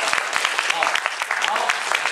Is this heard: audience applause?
yes